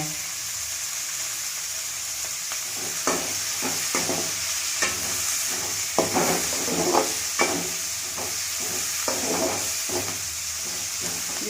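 Curry leaves sizzle in hot oil while a spoon stirs them, sending up a series of sharp crackles and scrapes over a steady hiss, close up and with no voices.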